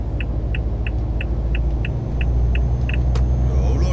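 Steady, loud highway traffic rumble from a truck cab in Euro Truck Simulator on a France-to-Germany run, with a low engine drone throughout and a regular series of soft, evenly spaced beeps or ticks over it.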